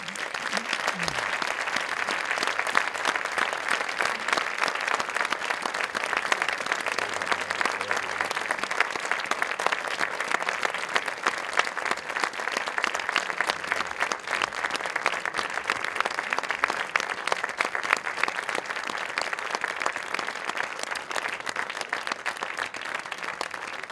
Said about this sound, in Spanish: Pido, por favor, un fortísimo aplauso para la Coral Municipal de Alagón